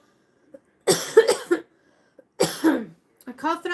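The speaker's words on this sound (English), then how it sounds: "I'm coughing up the lower energies." A person coughs in two harsh, phlegmy bursts with a pause between, followed by a short stretch of voiced throat noise, close and fairly loud in an otherwise quiet room.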